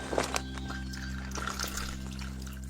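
Water poured from a pitcher for drinking, a soft trickling pour with a couple of brief splashy onsets near the start, fairly quiet over a steady low hum.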